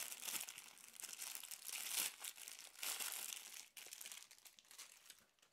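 Plastic packaging crinkles and rustles continuously in close, irregular bursts, with brief pauses between handlings.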